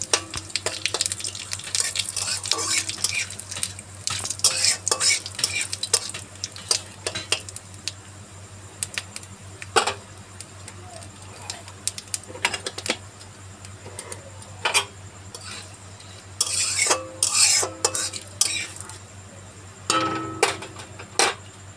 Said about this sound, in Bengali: এবার আমি এটা একটু তেলে নেড়ে নিই